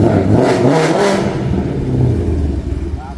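2024 Ford Mustang GT fitted with Kooks headers, revving hard close by: a loud, raspy burst of throttle blips that settles into a rumbling idle, with faint clatter underneath.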